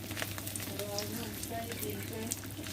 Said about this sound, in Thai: ทอดพริกกัน